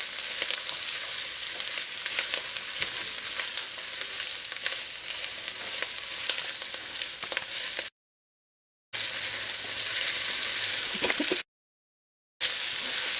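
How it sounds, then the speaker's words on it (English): Vegetables sautéing in a pot for Trinidad callaloo with crab make a steady, loud sizzle close by, broken by two short gaps of silence. "Now by sauteing the vegetables, all we're doing is giving this callaloo some additional flavor."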